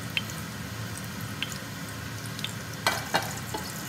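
Cumin seeds hitting hot oil in a pan with cloves and green cardamom, a steady low sizzle with a few sharp crackles and pops, close and moderately loud without speech.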